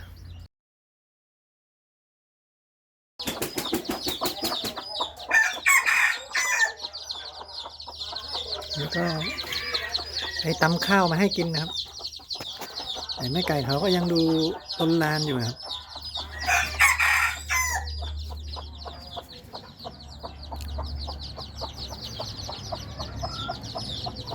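White-eared game hens and their chicks are herded into a nursery pen. After a short silence comes a busy stretch of clucking, squawking and crow-like calls, loud and close, with other birds chattering continuously.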